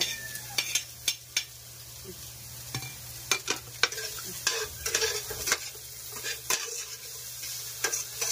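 Fried rice being sautéed in a pan, with steady close sizzling broken by repeated sharp scrapes and clinks of a spatula stirring against the metal, without any talk.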